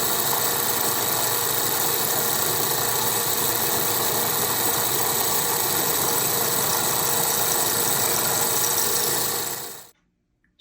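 A metal cutting machine works through a steel footplate for a King class locomotive, a loud continuous mechanical whine and rumble that runs steadily, then stops sharply, leaving near silence.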